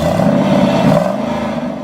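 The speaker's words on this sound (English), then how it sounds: "there's a 385 horsepower 5-liter engine, which of course you can't see, but which you can hear," A 385-horsepower 5-liter engine in a 2011 Jaguar XK convertible revs in a short, loud, steady burst of deep throaty drone, with no talk over it.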